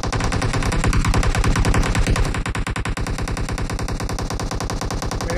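A continuous, loud stream of rapid automatic weapon fire from a shooter video game hammers on steadily throughout with no pauses, heard on its own without voices.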